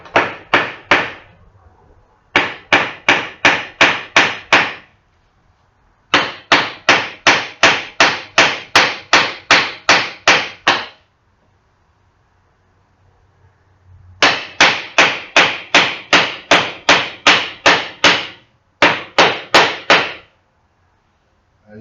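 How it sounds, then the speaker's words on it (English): Sharp, ringing hammer blows driving a nail into wood while building a rabbit cage, in rapid, steady runs of about ten strikes, separated by brief pauses, loud and close. "bring here the nail, just simply just hammer in here."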